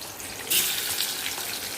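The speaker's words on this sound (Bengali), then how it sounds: "মাছের মাথাটা ভাজা বসাই।" Hilsa fish head frying in hot oil for a taro-leaf curry, a steady hissing sizzle with a brief louder burst of spatter near the start, close and continuous with no talk.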